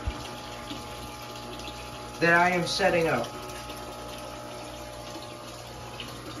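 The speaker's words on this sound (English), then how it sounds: "as you can see, water's running, everything's just fine" Water runs in 29-gallon aquarium tanks in a basement fish room, a steady low rushing hum that continues throughout, with a voice speaking briefly in the middle.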